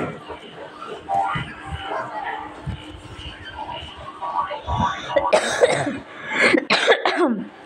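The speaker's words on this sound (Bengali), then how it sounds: "কাশিটা ভালোই হচ্ছে না" A person coughs several times in a kitchen while cooking shrimp, harsh close-up bursts that come in a cluster near the end, with speech before and around them.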